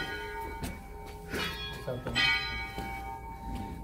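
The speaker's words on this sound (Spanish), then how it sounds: "Son campanas de bronce." Bronze church bells in Otuzco ring with long, sustained metallic tones, several strikes overlapping and fading, fairly close and resonant, with faint voices in the background.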